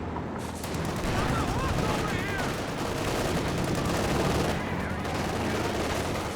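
Company of Heroes 2 battle: sustained rifle and machine-gun fire mixed with heavy howitzer booms, dense and continuous, with a commentator talking over it.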